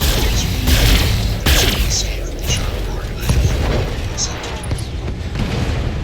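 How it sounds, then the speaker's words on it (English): A battle mech in the video game Battletech unloads a full weapons salvo, a dense run of booming blasts and mechanical whooshes that stays loud throughout with a few sharper impacts standing out, while a voice speaks over it. "Firing a full salvo."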